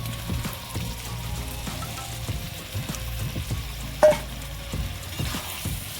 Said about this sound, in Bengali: আলুগুলো দিয়ে দিয়েছি ভালো করে কষিয়ে নেবো